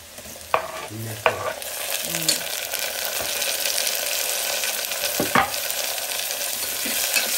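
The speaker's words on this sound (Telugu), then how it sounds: "టమాటో వేసుకొని ఒకసారి మిక్స్ చేసుకున్నాం. నెక్స్ట్ బఠానీ కూడా." Tomato and peas stirred in hot oil inside a pressure cooker, a steady sizzle and fry with a few sharp metallic spoon knocks against the pot.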